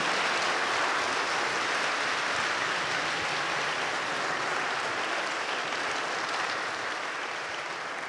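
Dense, loud audience applause fills a hall after an appearance by Reverend William Barber, a steady wash of many clapping hands that holds evenly throughout and tapers only slightly at the end.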